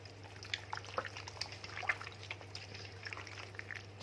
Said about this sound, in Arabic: حطي شويه ميه حلوين كده